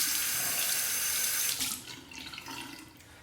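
Tap water runs hard into a sink as a straight razor is rinsed under it, a steady loud splashing stream that cuts off after about a second and a half, leaving quieter drips and trickles.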